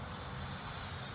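Freewing AL37 RC model jet with flaps out flying overhead at reduced power, a steady broadband engine roar heard alone, moderately loud and continuous.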